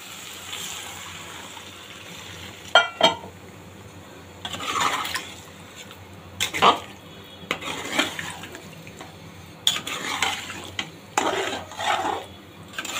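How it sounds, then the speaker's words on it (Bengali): Beef liver and potato curry is stirred in a pot, giving scattered scrapes and clinks of a spoon against the metal over a steady low background hiss, with no talking. "ভালোভাবে নেড়ে দিলাম"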